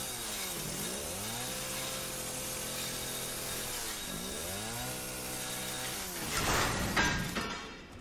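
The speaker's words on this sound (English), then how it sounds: "Yeah, we don't have the chainsaw for long." Chainsaw in Resident Evil 7 revving in two rising-and-falling surges, engine pitch swooping up then settling, followed by a louder harsh grinding burst near the end, with no talk over it.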